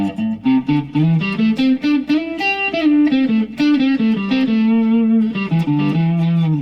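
An electric guitar plays a melodic line in a fairly clean tone with slight grit, notes ringing one after another at steady, moderate volume.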